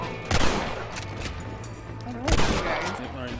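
Two loud, close bursts of gunfire in the Red Dead Redemption western video game, each cracking out and echoing briefly, set about two seconds apart.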